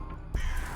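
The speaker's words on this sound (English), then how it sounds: "Hello, crows." A single crow caw from a video game bursts in abruptly, loud and close, after a brief hush.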